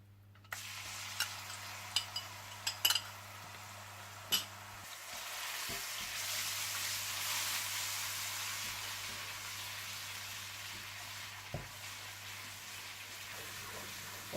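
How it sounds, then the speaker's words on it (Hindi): Ginger and garlic fry in hot oil in a karahi with a soft continuous sizzle, punctuated by several sharp clicks and taps of a spoon stirring early on. "इसमें आप अदरक लहसुन डालकर थोड़ा सा भून लें"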